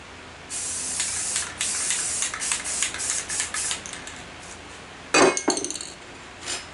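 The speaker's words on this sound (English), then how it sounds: "Now all we gotta do is, have to do is start painting. Just going for a light coat" An aerosol can sprays a light coat of paint onto ATV parts in a string of short and longer hissing bursts, close and fairly loud, with a brief metallic clink partway through and quiet between sprays.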